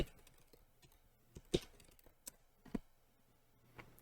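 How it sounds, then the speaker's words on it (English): Quiet, sparse keystrokes on a real computer keyboard plugged into a netbooted VDI client, irregular soft clicks with a few sharper taps, close and alone against a faint background hum. "And I need a real keyboard."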